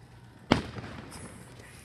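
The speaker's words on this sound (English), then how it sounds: "People are already launching fireworks." A single sharp firework bang cracks outdoors during solar eclipse totality, followed by a fading crackle and distant ambient noise, with another faint pop at the end.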